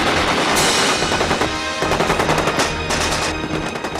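Rapid bursts of automatic gunfire from the movie Red Dawn, loud and continuous over a dense battle din, with heavy overlapping shots and no voices.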